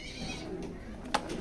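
A red checker pigeon coos softly inside a loft, with low, faint murmuring calls under a hushed background.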